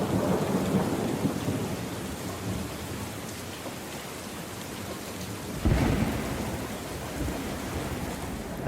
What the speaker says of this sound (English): That was stacked thunder right there.